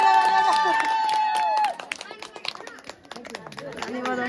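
Guests at a wedding garland exchange break into scattered, irregular hand claps that swell in the second half, mixed with crowd chatter and nearby talking.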